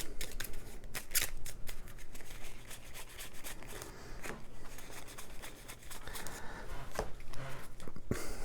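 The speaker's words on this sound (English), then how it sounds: "Shuffle again, deal 7." Camel Up playing cards being shuffled at a tabletop board game, a dense run of riffling and flicking card sounds continuing steadily throughout with no voices.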